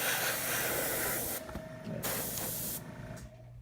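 Airbrush spraying paint onto a terrain model, a steady close hiss that cuts out briefly twice as the trigger is released, then resumes.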